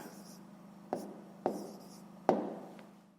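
A pen writes fractions by hand on paper: three distinct scratchy strokes stand out over a low hum, each a short rasping scrape followed by softer tracing, quiet and close.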